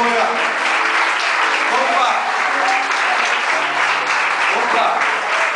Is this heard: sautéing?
no